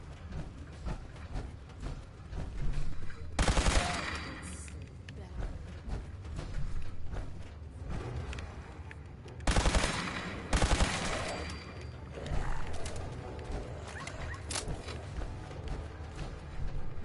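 A laser rifle fires in Fallout 4, with sharp bursts of shots standing out from a quieter game background, clustered in two separate volleys.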